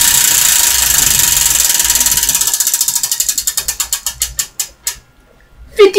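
A Wheel of Fortune wheel spins, its pointer clicking rapidly at first, then slowing into widely spaced, loud ticks until it stops; a faint background hum accompanies it.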